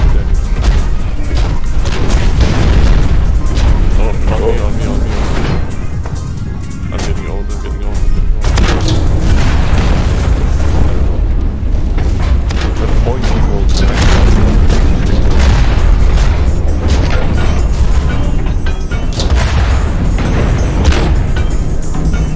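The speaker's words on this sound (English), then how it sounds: "I bounced a grenade off the wall," A grenade blast in the mech shooter game Hawken rings out amid a loud, dense barrage of booming explosions and weapon fire, with voices talking over the steady chaos.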